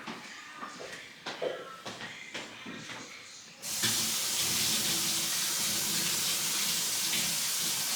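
Tap water gushing into a sink while fresh herbs are washed, starting abruptly after a few soft handling knocks and then running as a steady close hiss.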